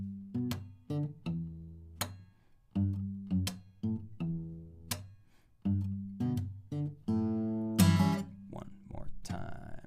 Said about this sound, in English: we will come down for a string slap and at the same time use our index finger to do a down strum and then another up strum.